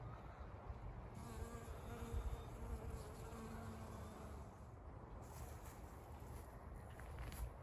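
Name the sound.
bee buzzing on sunflowers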